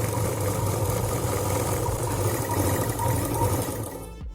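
A sewing machine stitches lining cloth for a small zip purse, a steady close mechanical whirr with a fast even rhythm that runs nearly the whole time before stopping at the end, no voices.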